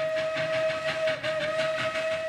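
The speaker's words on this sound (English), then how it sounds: "Yeah, a train." A train rumbles along with a steady tonal hum and rhythmic clatter, a continuous rolling sound heard alone without any voices.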